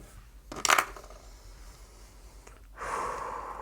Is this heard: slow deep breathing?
yes